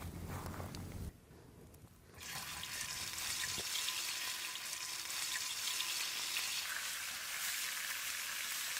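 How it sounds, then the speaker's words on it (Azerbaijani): Fish fries in a black pan, hissing and sizzling steadily after a brief quieter moment, the crackling growing denser and louder as it goes on. "qara tavamızda balığı qızardırıq"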